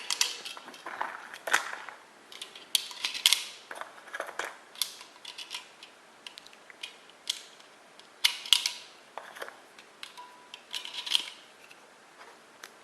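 Small .22 TCM rounds are pressed one by one into a 20-round magazine for an RIA MAPP1 pistol, giving quiet, irregular metallic clicks and snaps, close and faint, with short pauses between them.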